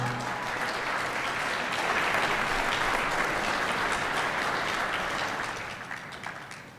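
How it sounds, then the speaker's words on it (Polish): Steady, dense applause from a sizable crowd at the EY Entrepreneur of the Year 2014 awards ceremony in Poland fills the whole stretch, tapering slightly near the end. "Gratulacje, brawa."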